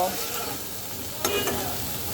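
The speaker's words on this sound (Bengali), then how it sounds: "সময় নিয়ে এটাকে সুন্দর করে আস্তে ধীরে ভাজতে হবে তা না হলে রসুনগুলো কিন্তু সুন্দর মতন ভাজা হবে না" Garlic sizzles in hot oil with turmeric and salt, a steady close frying hiss broken by a couple of quick stirring scrapes.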